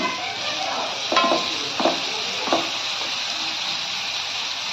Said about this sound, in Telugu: మసాలా అల్లం వెల్లుల్లి వేస్తున్నా. ఇది వేగనిచ్చి